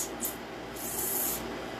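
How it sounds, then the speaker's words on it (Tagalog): Silicone spray being applied to an airsoft gun, heard as two short hissing bursts, a brief one and then a longer one of about half a second, close by, over a faint steady background. "So, una, mag-silicone spray po tayo."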